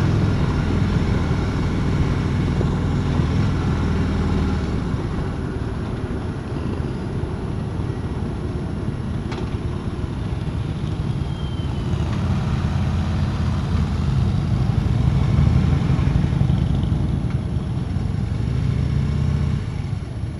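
Steady low rumble of a 2016 Harley-Davidson Road King's engine heard on the move during a test ride, a continuous droning roar mixed with wind noise that swells slightly partway through, with no talking.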